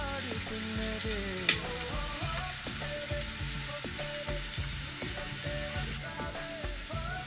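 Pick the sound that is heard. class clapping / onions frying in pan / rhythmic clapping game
onions frying in pan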